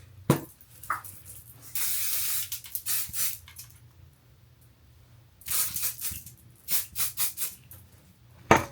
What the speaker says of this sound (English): I am about to hit it with some hairspray.